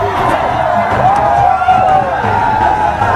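A large cricket stadium crowd cheers loudly and continuously, a dense roar of voices with whoops rising over it, and a commentator's voice sits close in front of the noise.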